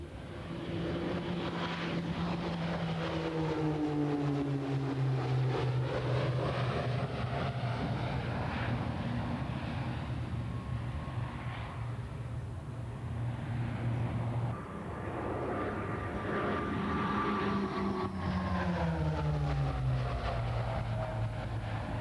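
Turboprop Tracker firefighting airplane of the French civil security, converted from piston engines, drones steadily and loudly with a shifting engine pitch as it passes, filling the whole stretch without voices.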